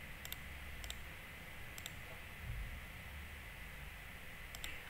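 Computer keyboard typing an email address into a sign-in form, heard as sparse, faint pairs and clusters of light key clicks over a steady hiss of room noise, with no voices.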